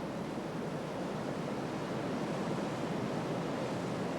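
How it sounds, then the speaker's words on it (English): Rushing water of the Rhine Falls in Switzerland, where the river plunges 80 feet, roars as a steady, dense broadband wash, even and continuous without pause. "the Rhine Falls, probably the most impressive waterfall in all of Central Europe"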